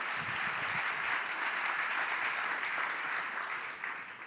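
Sustained audience applause after a startup pitch at a founders' competition final, a dense steady wash of clapping from a large crowd that fades slightly toward the end.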